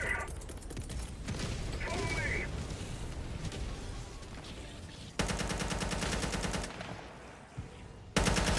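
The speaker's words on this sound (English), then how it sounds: "Autocannon sentry." An autocannon sentry fires in a video game set in a ruined city, with sustained rapid automatic bursts and a second loud stretch of fire near the end, mixed with game sound effects and no talking.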